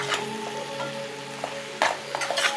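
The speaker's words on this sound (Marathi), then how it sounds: "आणि जे ब्रेडचे तुकडे आहेत ना ते पण आपण टाकून घेणार आहे त्याच्यातच." Bread pieces and coriander frying in oil for masala bread, giving a close, bright sizzle with stirring scrapes and a few sharper clatters toward the end.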